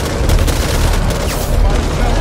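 Dense, loud bursts of gunfire from Back 4 Blood, rapid overlapping shots forming a steady barrage close by, with players' voices mixed faintly underneath.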